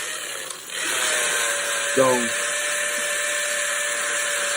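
A drill backs a screw off a strap holding outdoor PVC conduit, a short whirring burst near the middle over a steady background hum, with someone speaking briefly.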